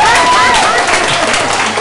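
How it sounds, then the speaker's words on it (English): A conference audience applauds a guest asked to stand at a business event, a steady wash of clapping filling the room while speech carries over it throughout. "let's give her a round of applause"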